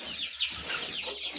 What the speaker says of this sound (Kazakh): Мына жақта біздің ортаншы балапандар, мына жақта кішкентай балапандар.